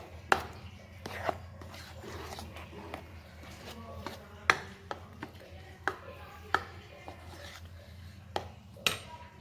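Rice mixture and sugar being mixed for homemade paneer, with a spoon clacking repeatedly against a bowl in irregular sharp taps over a faint scraping background.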